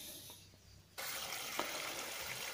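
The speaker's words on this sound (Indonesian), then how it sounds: "kita langsung saja akan nyalakan airnya" Well water gushing from a tap into a container, starting abruptly after a quiet moment and continuing as a steady rushing flow.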